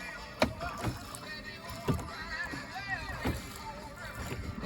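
Oars dipping and pulling a rowing boat across Rollesby and Ormesby broad on a sunny day, four or five soft rhythmic splashes about a second apart, close and fairly quiet over calm water.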